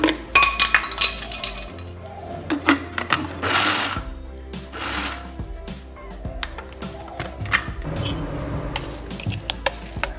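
A mixer grinder briefly pulses coconut sambol with onion in a home kitchen, giving a short motor whir followed by scattered clinks and clatter of the jar and utensils nearby.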